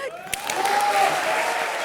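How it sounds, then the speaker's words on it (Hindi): Applause from a comedy show studio audience, a brief dense burst of clapping that swells and holds steady, with a faint cheer mixed in. "मिमिक्री करके दिखाएगा बाबा, जोरदार तालियां हो जाए।"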